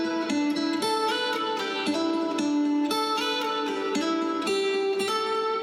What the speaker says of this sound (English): let's say I'm producing this lead guitar part and it sounds like this